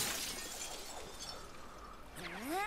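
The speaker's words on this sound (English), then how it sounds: "And that will break the glass." Glass breaks in Super Mario Odyssey with a sharp shatter and scattered tinkling shards, a faint game sound ending in rising tonal effects.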